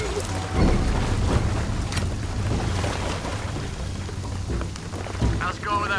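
Heavy rain pours steadily in Shadow of the Tomb Raider, a dense, loud wash with low rumbling swells of thunder beneath it, continuous throughout with a few brief tonal game sounds near the end.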